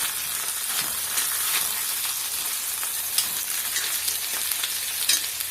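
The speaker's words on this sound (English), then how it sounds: "Flip them and sear the other side." Pork chops sear in an oven-safe skillet, giving a steady, close sizzle with occasional sharper crackles and light pops throughout, no voices.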